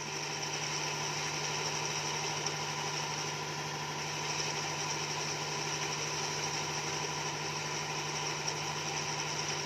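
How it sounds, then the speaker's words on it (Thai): A lathe turns a steel motorcycle gear shaft from a Wave 100 to fit a C70, giving a continuous steady machine hum with a constant whine, close and unbroken, with no talking. "เมื่อเราวัดขนาดแล้วเราก็กึงให้ได้ขนาดเลยนะครับ"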